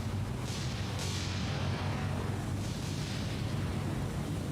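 Naval shells explode in the War on the Sea video game as a steady, dense rumble with a few slightly louder bursts rising out of it, heavy and continuous throughout.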